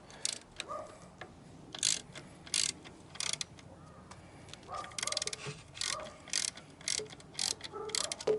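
A ratchet wrench loosening 12 mm and 14 mm alternator bolts on the 1.5-litre engine of a first-generation Scion xA/xB, giving short bursts of rapid clicking repeated over and over, close up with no talking.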